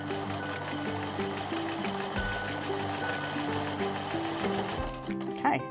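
Sewing machine stitching a starburst quilt design, running continuously at close range with a steady mechanical rhythm and slight shifts in pitch throughout.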